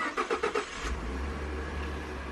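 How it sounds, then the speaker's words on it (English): A Ford EcoBoost engine cold-starts at an auction lot: a few rapid cranking pulses, then it catches and settles into a steady low idle hum, heard from close by. "We're here early because we wanna hear this cold start on this engine."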